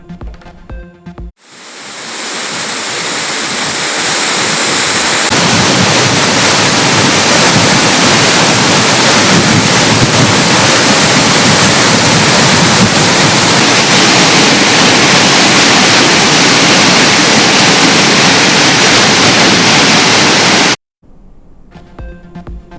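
Courtallam waterfall swollen after overnight rain, a loud, dense, unbroken rush of falling water that fades in and then holds steady before cutting off.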